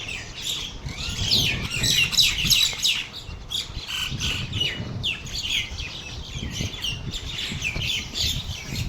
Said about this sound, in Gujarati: હજારોની સંખ્યામાં અત્યારે પક્ષીઓ મારા આંગણે જોઈ શકો છો